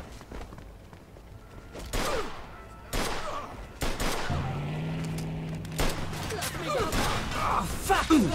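Video game gunfire in Mafia II: Definitive Edition: sharp, loud shots bursting at irregular intervals, with a droning mechanical tone and scattered impacts in between.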